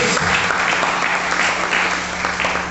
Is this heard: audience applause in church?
yes